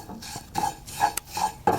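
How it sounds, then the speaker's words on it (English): Fennel seeds and whole black peppercorns dry-roasting in a pan for a Kerala black chickpea curry, with steady scraping and stirring, light rattling of seeds against metal and a few sharper clinks of a utensil, close by with no voices. "So I'll just roast these two for another like 30 seconds or so"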